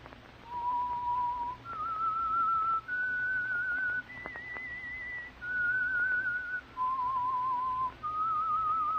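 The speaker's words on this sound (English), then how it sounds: "That whistle is your signal," A clear whistled melody of long held notes rising and falling, sustained over a low steady background hum.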